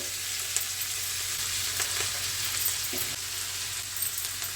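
Whole cabbage dropped into hot oil with a spice tempering for a Bengali cabbage and tomato vegetable dish, giving a steady, close frying sizzle that holds throughout with a few faint stirring knocks and no talk.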